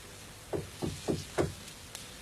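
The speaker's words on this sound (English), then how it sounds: "You don't have to knock." Four firm knocks on a door come in a steady, evenly spaced run, close and fairly loud, followed by a faint fifth tap, with no talk.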